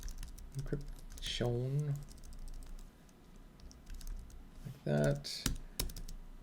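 Computer keyboard typing while setting up etcd encryption on OpenShift 4.6: quick, close bursts of clicking keys with brief pauses, heard under and between a man's speech.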